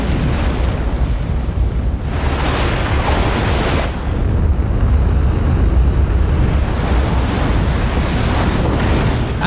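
A huge ocean wave in a film crashes in a continuous thundering roar of rushing water, surging louder in two heavy swells, with no talk.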